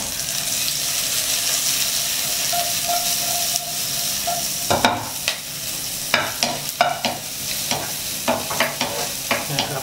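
Dried shrimp stir-fry in a tablespoon of oil, a steady close sizzle and hiss joined halfway through by regular scraping strokes of a spatula against the pan.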